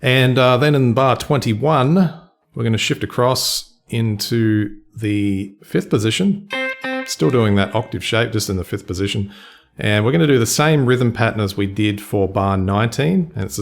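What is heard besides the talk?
No distinct noise like a dog, phone or traffic.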